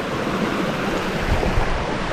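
Waterfall at Khlong Lan in February, heard as a steady, loud broadband rush of falling water close by, constant throughout with no talk.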